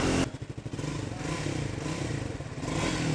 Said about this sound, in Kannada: ಎಕ್ಸಾಸ್ಟ್ ನೋಟು ಬ್ಯೂಟಿಫುಲ್ ಆಗಿದೆ, ಬ್ಯೂಟಿಫುಲ್ ಸೌಂಡ್ ಅಂತಲೇ ಹೇಳಿ.